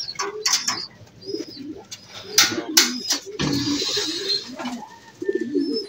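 Racing pigeons arriving at a loft coo in low, repeated murmurs, with sharp chirps, clatter and brief wing noise around them, fairly close.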